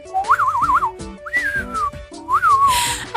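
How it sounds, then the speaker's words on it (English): A person whistles in short wavering phrases, first a quick trilling warble, then a gliding tone and a falling one, close and fairly loud, with a squeaky hiss of air between attempts and no talking. "You got to practice your whistling so that you can whistle instead of whatever that tooth squeak is"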